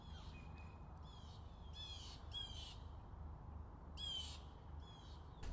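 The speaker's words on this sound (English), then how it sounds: "These birds are squawking about something." Several crows caw from the trees in short repeated bursts, some nearer and some further off, over a steady low background rumble with no talking.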